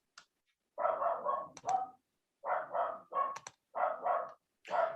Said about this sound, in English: I'll apologize if you can hear my dogs barking in the background.